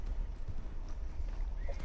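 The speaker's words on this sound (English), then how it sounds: "your horse should come to you. Oh yeah, it's coming" Horse hooves clip-clop in a PlayStation 4 video game as the animal approaches, a quick steady rhythm of thudding steps that grows close and loud, with a brief whinny.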